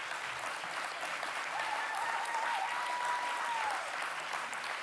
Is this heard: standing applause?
yes